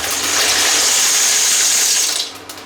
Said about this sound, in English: let me dump in my pipe rigate here